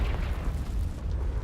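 A Confringo fire spell bursts in Hogwarts Legacy, a dense, continuous rumbling blast with heavy low-end roar sustained throughout, loud and close with no clear separate hits.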